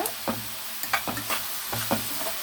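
Onions frying gently in oil for an egg curry, a soft continuous sizzle broken by several rhythmic stirring scrapes close by.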